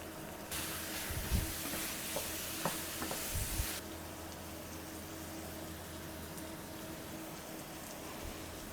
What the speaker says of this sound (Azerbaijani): Tomatı mütləq, bax bu etapda mütləq qovurmaq lazımdır